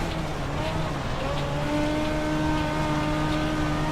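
A Dirt Legends race car engine held at full throttle on Lanier National Speedway in iRacing, a steady loud droning whine with slowly shifting pitch.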